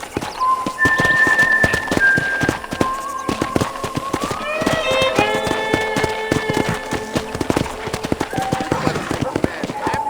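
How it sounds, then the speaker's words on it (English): Horse hoofbeats clop steadily while riding at a ranch in Red Dead Redemption, a rapid rhythmic patter running through the whole stretch beneath tonal music and game sounds. "Okay, let's see if you can still ride a horse."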